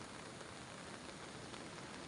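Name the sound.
heavy rain during a storm at the coast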